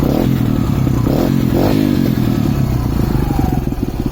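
A 2016 Sherco 125 trials motorcycle engine, still cold, idles and blips nearby with a buzzy, torquey putter and a few quick throttle rises, alone without talk.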